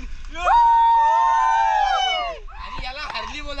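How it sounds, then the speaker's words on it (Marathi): Boys shout loudly in a forest near the Kelve waterfall in Palghar, Maharashtra: one long, sustained, high yell holds for about two seconds, then shorter overlapping whoops and calls follow, close and loud. "आणि या रानात येऊन ही आमची पोरं एवढी जोरात ओरडतात ना"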